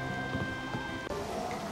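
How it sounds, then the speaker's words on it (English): Steady rain falling in the video game Harvest Moon: Animal Parade, a continuous soft patter with low rumbles of distant thunder, alone with no talk. "it's cloudy and raining and thundering outside"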